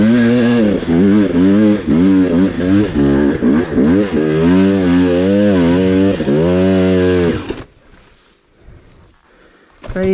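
Off-road motorcycle engine straining up a very steep slope, a loud sustained rising and falling drone with shifting revs for about seven seconds, then cutting abruptly to quiet outdoor background.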